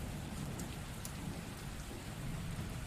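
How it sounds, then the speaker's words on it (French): Rain falls in a steady, soft patter, a faint, even hiss of drops on surfaces that continues without a break and with no voices. "le flux de l'eau, le flux de la pluie qui coule"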